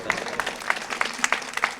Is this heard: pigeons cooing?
no